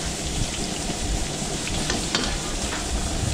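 Onions frying in a pan for pork menudo give off a dense, even sizzle like heavy rain, close and steady throughout with no voices.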